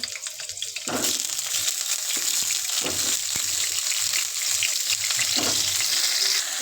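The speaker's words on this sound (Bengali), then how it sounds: "কড়াইতে তেল বসেছি আলুটি দিয়ে দিব" Potatoes fry in hot oil in a wok with a continuous, close crackling sizzle, with occasional soft knocks and stirring scrapes throughout.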